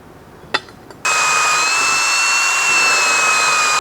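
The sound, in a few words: drilling a pilot hole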